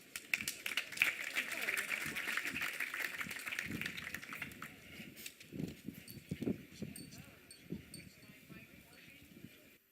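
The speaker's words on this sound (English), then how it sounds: "So please give them a round of applause." An outdoor audience at a startup venture event applauding a round of presenters, the claps light and somewhat distant, thinning out toward the end, with voices murmuring underneath.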